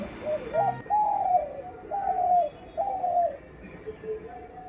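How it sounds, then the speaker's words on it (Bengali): A pigeon perched on a wire coos several times in the early morning, a soft, rounded rhythm, close by and clear against a quiet background. "সকালবেলা ঘুম থেকে উঠে না পায়রার ডাক শুনতে আমার খুব ভালো লাগে"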